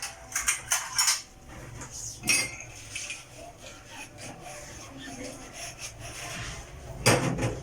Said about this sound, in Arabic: ادعك الكوبايات بتاعتي